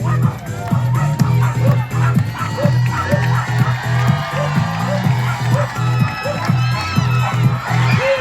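Crowd at a SuperDogs show during the Timmins Fall Fair cheers as a dog named Bravo goes for the top bar of a jump, with loud sustained shouting and whoops from children and adults carrying on steadily throughout.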